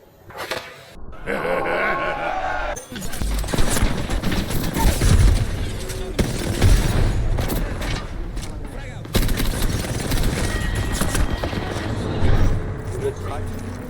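Grenade blast and bursts of gunfire in an Apex Legends ranked match, loud and dense throughout with repeated shots and booms, while players talk over the game action.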